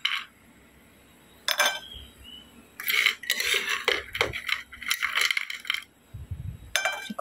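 Fried potatoes served onto a plate with utensils at home, a series of close metallic clinks and scrapes of cutlery against a dish in short bursts with pauses between.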